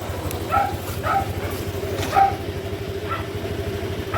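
A Honda Click 125 V5 scooter engine idles steadily at close range, a low continuous hum running throughout, with a few brief higher-pitched accents on top and no talking.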